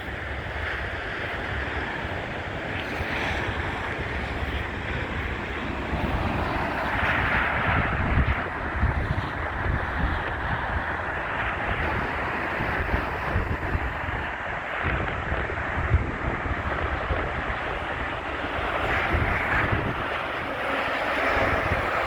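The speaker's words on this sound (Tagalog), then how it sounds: "Malakas po ang hangin, kaya malamig" Strong, cold wind roars steadily across the microphone for the whole stretch in Tenerife, a dense rumbling gusty noise with no voices.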